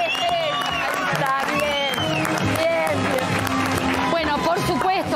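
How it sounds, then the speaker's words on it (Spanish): A television studio audience breaks into sustained applause and cheering, dense clapping mixed with whoops and voices, loud and continuous from start to finish. "chicos, y aplauso."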